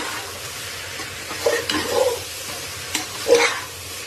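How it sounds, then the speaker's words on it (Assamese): Rice frying with salt in a pot, a soft continuous sizzle under several scraping strokes of a stirring spoon, close up with no talking. "আমি ইয়াতে দিলোঁ নিমখ দি পেলাই আৰু এবাৰ ভাজি লওঁ।"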